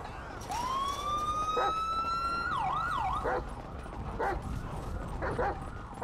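A police siren wails in a GTA 5 chase, rising then warbling up and down, loud and close over constant engine and road noise, with a dog barking in bursts.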